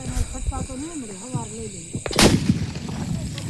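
A single loud Diwali firecracker burst in an open farm field, a sharp bang followed by a short rumbling tail, after a voice speaking.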